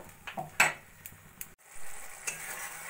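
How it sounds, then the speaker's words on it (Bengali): A Bengali fish curry masala with onion and peas, with water just added, simmers on a low flame. Faint bubbling runs under a handful of quick metal-spoon clinks and stirring scrapes, close by and without speech. "জলটা দিয়ে আমি লো ফ্লেমে যতক্ষণ না মাখা মাখা হচ্ছে রান্নাটা করে নেব"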